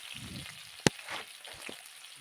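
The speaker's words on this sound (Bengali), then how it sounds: "কড়াইতে একটু তেল দিয়ে ফ্রাই করে নিলাম।" Chicken sizzles as it fries in a little oil in a wok: a faint, steady crackle with one sharp click partway through and no talking.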